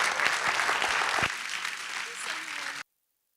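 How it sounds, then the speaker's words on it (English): Audience applause at an annual education report event, brisk clapping with a few louder claps near the start that thins out and then cuts off abruptly before the end. "Let's give them another round of applause."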